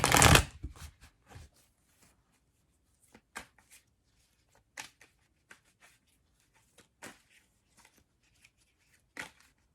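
Tarot deck being shuffled, with a dense riffle at the start followed by sparse, soft card flicks and taps spread across the rest, quiet and close.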